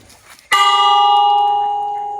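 An old iron church bell on Banana Island, Sierra Leone, is struck once, giving a loud, clear clang with a long ringing tone that slowly fades.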